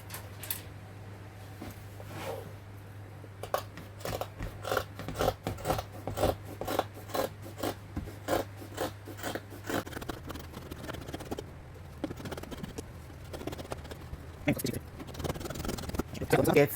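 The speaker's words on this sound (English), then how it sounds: "I'm going to be cutting down all the way to the bottom here and cut it across" Scissors cut through aso oke handwoven fabric for a Yoruba buba, a long run of close, rhythmic snipping and rasping strokes with a steady low hum beneath.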